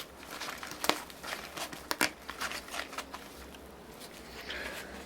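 Up close, a plastic bag crinkles as the package of a new 12-volt turn-signal flasher unit for a 1982 Kawasaki 750 LTD motorcycle is unwrapped. Irregular crackles and rustles sound with no talking.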